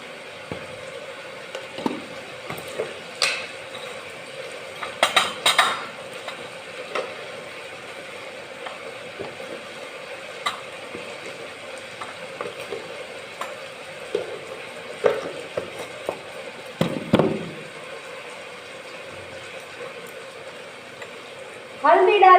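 Food frying in a pan at home while it is stirred and spices such as salt, turmeric and chili are added; a steady low sizzle runs throughout, broken by scraping stir strokes and a few sharper clatters near the end.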